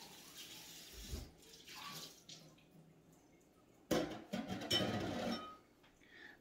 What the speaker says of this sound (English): Gotta give it a quick rinse out.